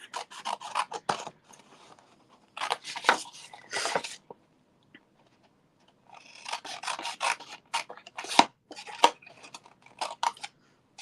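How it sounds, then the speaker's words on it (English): Scissors snip and rasp through paper in close bursts, several quick cuts in a row, then a pause, then another run of cutting. "I think it's easier just to take my scissors and cut that out"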